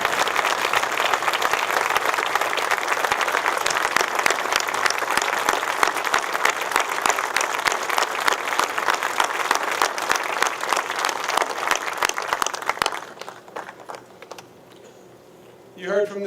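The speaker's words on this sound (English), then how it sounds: "And let's give Kelly a round of applause." An audience claps for about thirteen seconds in a steady, crisp patter of many hands. The clapping then stops abruptly, leaving a quiet room with a faint voice near the end.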